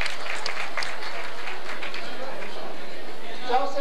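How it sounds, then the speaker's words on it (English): A crowd applauds Joseph Diaz of American Airlines at a social gathering, loud and dense clapping with murmured chatter mixed in, tapering off toward the end. "let's give Joseph Diaz from American Airlines a big round of applause"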